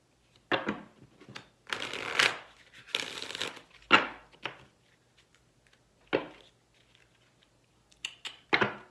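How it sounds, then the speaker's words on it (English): Oracle cards being shuffled by hand during a full moon reading, irregular bursts of papery riffling and slapping, some quick and sharp, others longer, separated by quiet gaps, with no talk. "This one needs to be shuffled this way."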